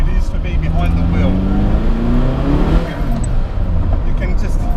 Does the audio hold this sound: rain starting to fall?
no